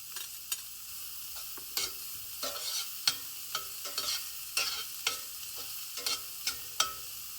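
Chopped onion and ginger frying in ghee for poha while a spoon stirs them, with steady sizzling and repeated sharp scraping clicks against the pan, and no talk.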